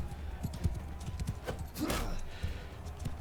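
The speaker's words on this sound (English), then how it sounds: "We're going to grab a horse." Horse hooves clip-clopping in the Mount & Blade II: Bannerlord video game, a steady run of close hoofbeats mixed with game background sounds and a brief whinny-like swell.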